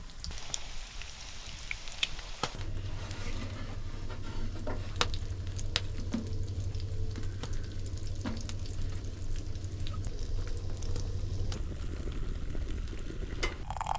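Bacon sizzles and crackles in a pan at a cold winter campsite, a constant close frying hiss with scattered pops and utensil scrapes over a low steady hum.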